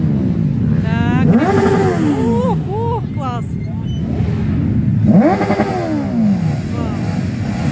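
Many bikers' motorcycles ride past at a season-closing rally in Chisinau, engines revving and droning loudly as they pass close by, with a second wave rising near the end and a voice talking over the noise.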